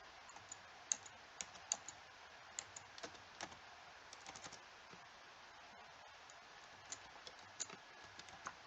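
Light, fast keystrokes on a computer keyboard tap out a short phrase, quiet irregular clicks with small pauses between bursts, heard alone without any talking.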